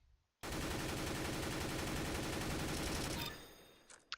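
Continuous spray of automatic rifle fire in CS:GO, loud and close, roughly three seconds of rapid unbroken shots that cut off abruptly, then a couple of faint clicks.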